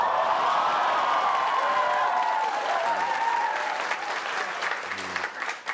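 A studio audience at a Korean news broadcast's first-anniversary special breaks into loud, sustained applause mixed with crowd noise and a tonal whistle-like cheer, fading slightly toward the end.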